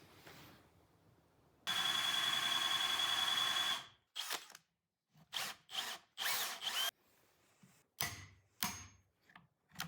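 A power drill bores holes into log cabin wood, one long sustained whine at first, then a series of short, loud, close bursts with brief pauses between them.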